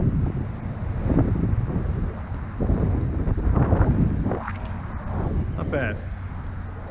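Wind buffets the microphone beside a river while fishing, a loud, uneven rumbling gust noise throughout, with a person speaking briefly over it.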